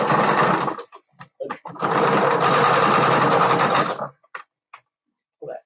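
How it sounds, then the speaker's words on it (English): A sewing machine stitching a small, tiny section of a bat plushie: close, buzzy motor runs in two bursts, a short one then a longer one, separated and followed by brief clicks and handling taps. "Sewing this part is a little bit hard because it's so tiny."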